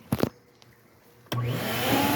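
A vacuum switches on in the top of a pond filter, giving a sudden loud, steady whining roar with a tonal hum, after a few soft clicks and handling sounds.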